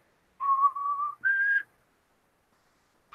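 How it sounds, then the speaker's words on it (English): A pet bird whistles a Star Wars tune in clear, pure notes: a held phrase, a higher note, then silence and the start of another note, all alone and close. "mostly it's the whistling, so he can sing the Star Wars tunes"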